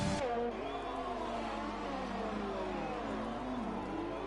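A Formula 1 car engine in an F1 racing video game on the Canada circuit whines at high pitch, its tone rising and falling through gear changes, steady and continuous with no talking.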